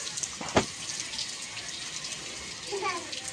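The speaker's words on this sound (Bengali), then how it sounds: "এই কলটা চালাবো" A bathroom tap pours water for a child's shower, giving a steady, close rush of running water that lasts throughout, with a brief bump early on and faint voice-like sounds near the end.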